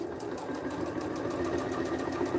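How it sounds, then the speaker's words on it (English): A sewing machine stitches a duffle bag handle in one steady, continuous mechanical whir at close range, with no talking. "you do end up sewing like one side of each handle at a time"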